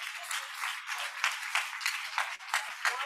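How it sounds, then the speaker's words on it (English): Applause from a conference and awards audience, moderately distant clapping with uneven rhythmic swells lasting a few seconds as a speaker leaves the stage. "Can we continue with the applause until she's seated?"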